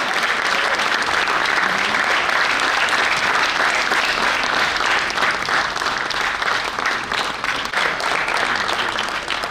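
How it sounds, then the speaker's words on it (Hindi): Loud, dense applause from a theatre audience at the end of a stage play about Samrat Ashok, steady sustained clapping filling the whole stretch with no talk over it. "एक बार जोरदार तालियां हमारे सभी कला"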